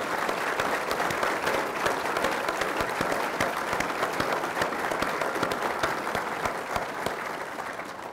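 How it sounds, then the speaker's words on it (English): An audience applauds a service member at an executive speaker event, a steady wash of clapping from many hands that holds for about eight seconds and fades slightly at the end. "I think we ought to give him a big round of applause and thank him for his service."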